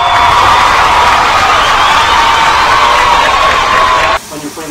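Steak fajitas sizzling hard in hot oil in a pan, a loud, continuous crackling hiss that drops away abruptly near the end.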